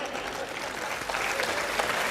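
An audience at a Hindi kavi sammelan poetry recital claps steadily throughout, a dense wash of applause that swells slightly in the second half. No one speaks over it.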